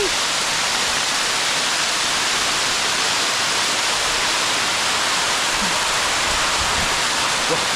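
A waterfall in the wild beside the Moei River in Tak, Thailand, roars as a steady, dense rush of falling water that stays close and loud throughout.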